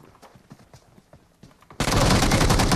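Video game gunfire erupts suddenly, a dense loud burst of rapid shots that fills the second half after a stretch of quieter clicks and light taps.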